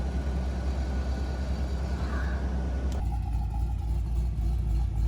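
A race car engine idles at close range, a steady low rumble that holds even throughout, with no revving and no voices.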